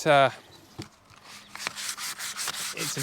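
Coarse sandpaper rubs back and forth on a coil cover part for a rally buggy built on a Honda Type R mini supercar project, making a rhythmic series of rasping strokes after a brief voice at the start.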